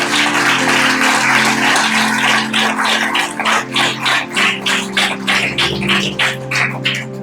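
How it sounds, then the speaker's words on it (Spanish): A church congregation claps for the Lord during a Christian community service. The clapping is a steady, rhythmic patter over a sustained low musical tone, fairly loud and filling the room. "Dale un aplauso al Señor si lo puedes creer"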